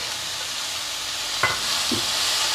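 Cumin seeds and garlic frying in a hot pan for a peanut, hill mango and green chilli chutney, a steady broad sizzle with a couple of brief stirring scrapes, close and alone.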